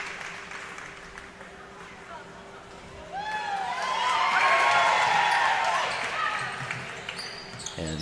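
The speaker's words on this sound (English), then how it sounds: "And a little bit of a crowd response" Crowd in a gym at a varsity girls basketball game swells into cheering and applause midway, rising to a loud roar before fading, with whistle-like squeaks and background noise.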